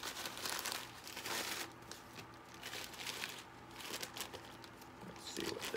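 A big plastic bag is crinkled and rustled close up while a package of handmade soaps is unpacked, with an irregular crackling that rises and falls over several seconds.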